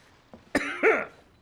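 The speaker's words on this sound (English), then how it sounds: "And no, I'm not coughing from being sick or anything." A single short cough from a dry throat, a sharp burst followed by a brief throat-clearing rasp, close and moderately loud against quiet.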